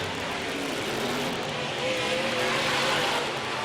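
Modified race cars at Amsoil Speedway roar past in a steady, loud engine drone during a heat race, with the pitch rising and shifting as the pack goes by, close and continuous for the whole stretch.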